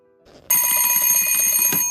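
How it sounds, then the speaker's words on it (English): Alarm ringing, a loud rapid metallic bell rattle that cuts in sharply after a faint lead-in and keeps going in quick even strikes. "set alarms on your cell phone or the device that you prefer"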